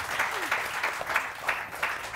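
Studio audience applause on a Pakistani morning talk show, a steady patter of many hands clapping at moderate volume that runs through the whole moment, with faint crowd noise and no voices on top.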